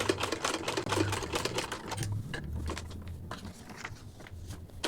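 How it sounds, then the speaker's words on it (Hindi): A sewing machine runs continuously, stitching fabric in a circle for basic practice, a fast close rattling hum with steady needle clatter that eases slightly midway and carries on. "अच्छे से मशीन को चलाते जाना है, कपड़े को घुमाते जाना है।"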